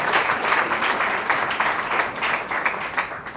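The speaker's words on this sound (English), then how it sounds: "Let's have a huge round of applause once again for Dr. Tharoor." Steady applause from a sizable crowd at a launch event, dense overlapping claps filling the whole stretch at an even, loud level.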